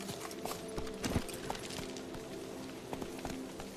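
Hooves of Roach, a horse in The Witcher 3: Wild Hunt, beating a quick rhythmic clip-clop at a gallop, fairly near and moderately quiet, with no talk.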